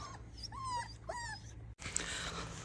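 A found white puppy whimpers close by with a few high, thin cries that rise and fall, followed by a burst of louder background noise.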